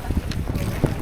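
Strong wind buffets the microphone aboard a small boat at sea, a dense low rumbling roar with gusty bursts throughout the short stretch.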